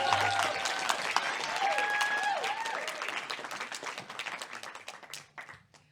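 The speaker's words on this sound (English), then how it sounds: "So please give a warm and loud round of applause for Dr. Thuy Vo-Dang." An audience at an authors' panel on graphic novels and picture books claps and cheers in a long, dense round of applause that slowly thins and fades by the end.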